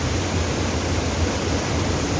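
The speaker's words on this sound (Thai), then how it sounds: "น้ำตก เชียงซองครับของอำเภอวังทองจังหวัดพิษณุโลกนะครับ" Kaeng Song waterfall in Wang Thong, Phitsanulok, heard as a constant, close roar of falling water, an even broadband rush with no breaks.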